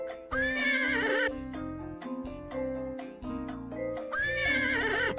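A cartoon horse whinnies twice in a Pajama Sam 4 chess-themed game scene, each neigh loud and wavering, with steady game music playing between and beneath them.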